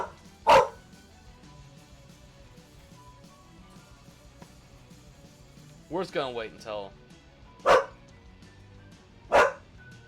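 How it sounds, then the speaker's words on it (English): A pet dog barks loudly in sharp single bursts from close by, with a short run of yaps and whimpers midway, while someone talks over game sounds indoors. "my dog is going crazy"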